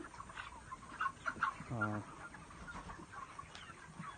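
Chickens weighing around two and a half to four kilograms cluck inside a coop, with a short series of calls and a brief burst of stacked clucks standing out over a noisy farmyard background.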